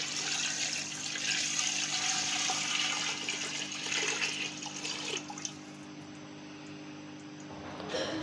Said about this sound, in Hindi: अब मैं इसमें पानी शामिल कर चुकी हूँ